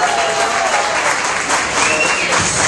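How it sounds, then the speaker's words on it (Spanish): Loud, continuous applause from a nightclub audience at a Spanglish comedy show at the Village Inn, a Latino disco in Bradford, a dense steady wash of clapping lasting the whole stretch. "El aplauso fuerte, por favor."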